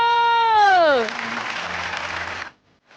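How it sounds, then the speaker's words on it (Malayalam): A group of people claps in a short burst of applause lasting about a second and a half, right after a high, sliding wail, then it cuts off into quiet. "എല്ലാവരും കമോൺ, ഇവിടെ കൈയടിക്കോ"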